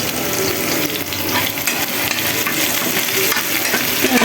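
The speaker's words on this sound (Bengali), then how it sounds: "রসুনটা ভালোভাবে ভেজে নিচ্ছি।" Garlic fries in hot oil in a pan with a loud, continuous sizzle and crackle, and a few light metallic clinks come through over it.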